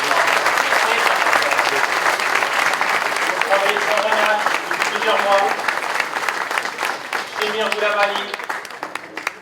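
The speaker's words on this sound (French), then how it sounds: "J'attends vos applaudissements," A crowd applauds at an opening ceremony in France, with sustained clapping throughout while someone speaks names over a microphone on top of it.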